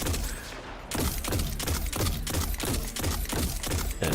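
A grenade launcher fires in rapid repeated bursts during Destiny 2 gameplay, a dense run of heavy booming shots, roughly eight in four seconds, loud and close with no talk.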